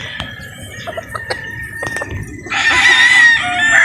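A gamefowl rooster at a game farm in Batangas lets out a loud, drawn-out crow near the end, after scattered clucks and short squawks from nearby chickens.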